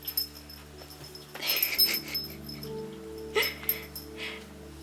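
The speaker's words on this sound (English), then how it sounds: "that's my puppy making some noise" A puppy whimpers and whines softly indoors, with thin nasal squeaks rising and falling over a steady low household hum, faint and close.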